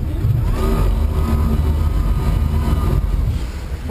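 A boat engine, heard as a steady, loud, close drone with a low rumble throughout, running continuously during a shark encounter at sea with no clear gear change.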